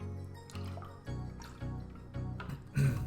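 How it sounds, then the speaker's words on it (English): Close, quiet sips of water, several small wet gulps and swallows in an uneven rhythm, ending with a louder slurp. "Let me take a sip of water"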